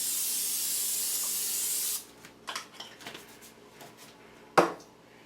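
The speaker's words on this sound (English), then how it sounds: "And I like to spray it down with no stick pan." Nonstick cooking spray hisses steadily onto a cookie sheet for about two seconds, loud and close, followed by light clinks and rubs of the pan being handled and a sharp knock near the end; no one speaks.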